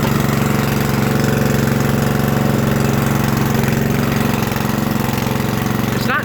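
A Murray riding mower's Briggs 12.5 hp engine idles close by, a loud, steady, rapid mechanical putter that holds even throughout with no talking.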